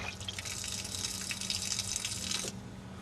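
Water runs steadily from a garden hose spigot fed through a Y splitter, a close, constant hissing splash that stops abruptly near the end, with a low hum underneath.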